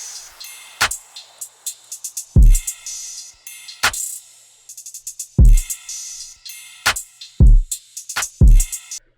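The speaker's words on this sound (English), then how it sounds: "And then into the actual drums, it sounds like this." A punchy electronic drum pattern with deep booming kicks, crisp snare hits and rapid hi-hat rolls, repeating in a steady, loud groove with no voices.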